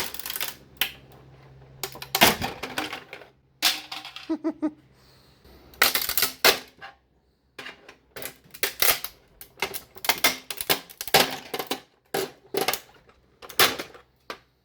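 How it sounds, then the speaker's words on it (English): Plastic parts being pried and pulled off an old fax machine, giving a run of sharp, irregular clicks, snaps and rattles with brief pauses, close and fairly loud, with no talking. "Now what I usually do, just when I take off all the plastic bits"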